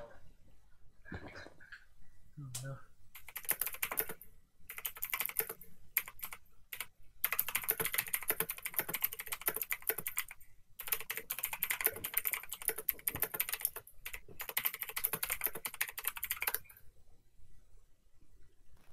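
Fast, steady clatter of keys on a computer keyboard during a League of Legends session, running in long bursts broken by brief pauses, close and with no talking.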